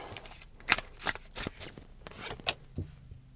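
Tarot cards are shuffled and handled close up, giving a string of quiet, crisp riffling and flicking bursts spaced irregularly, with a soft tap as a card is set down.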